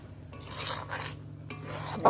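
Taro stolons (kochur loti) stirred in a pan while cooking a vegetarian dish, giving soft scraping and rustling strokes in a few close bursts with a faint sizzle underneath and no talk.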